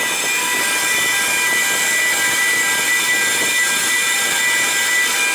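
A ship's gantry crane travels along the deck toward the stern, a loud steady mechanical roar and whine with constant high tonal hum, unbroken for several seconds and no talking.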